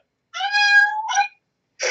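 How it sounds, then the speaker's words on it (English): A cat meows during a tabletop role-playing session, giving one drawn-out meow followed by two short ones, close and clear in an otherwise quiet room. "That's a cat, not a person."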